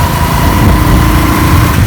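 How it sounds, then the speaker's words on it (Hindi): A motorcycle carrying a load of grass along a rural road, its engine running in a steady, loud, close drone with continuous low rumble and no pauses. "अब यानी मैं मोटरसाइकिल पर घास को रख के लेके जा रहा हूँ घर।"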